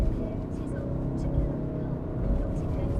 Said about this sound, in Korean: 이 차는요 190마력의 2000cc 디젤 엔진입니다.